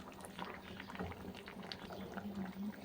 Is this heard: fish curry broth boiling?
yes